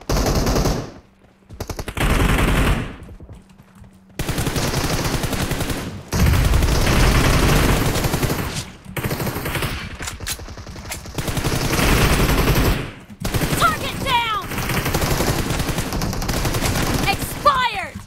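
Bursts of rapid automatic gunfire in the mobile shooter PUBG Mobile, loud and repeated across the whole stretch with brief gaps between volleys and faint sounds of other in-game action.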